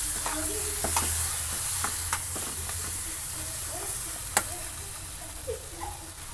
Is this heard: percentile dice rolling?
no